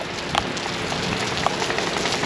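Steady rain falls during an outdoor 5K running race, a continuous loud hiss of drops pattering on surfaces, with a faint engine hum underneath and no talking.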